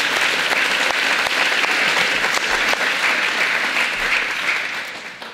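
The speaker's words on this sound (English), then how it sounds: "That does deserve a round of applause." Guests at a YMCA annual dinner give a loud round of applause, close, dense clapping with distinct individual hand strikes that holds strong for several seconds and then tapers off toward the end.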